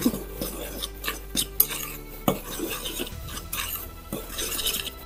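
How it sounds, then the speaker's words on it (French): Flour, sugar, baking powder and cornflour stirred together in a bowl for Christmas shortbread, heard as close, uneven scraping and rubbing strokes of a utensil with a few louder knocks against the bowl. "je remue"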